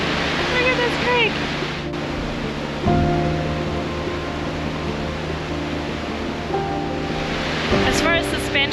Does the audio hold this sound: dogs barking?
no